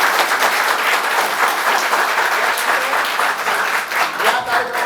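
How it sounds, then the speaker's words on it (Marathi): Sustained audience applause at a road safety awareness event at a college in Navi Mumbai, dense steady clapping from a large crowd throughout, fairly loud and close, with no break. "टाळ्या वाजवा."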